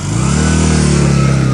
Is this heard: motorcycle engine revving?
yes